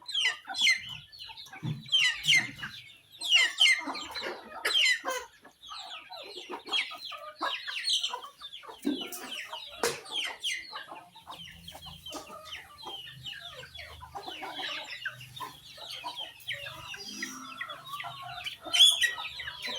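A flock of chickens at feeding time clucks and squawks busily nearby, with overlapping calls from several birds and a few louder cackles throughout.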